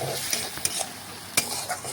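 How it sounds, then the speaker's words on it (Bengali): Potatoes frying with spices in a pan, with a constant sizzle broken by a few sharp scrapes and clinks of a spatula stirring against the metal. "আলুটা একটু মশলার সাথে আমি ভেজে নিচ্ছি"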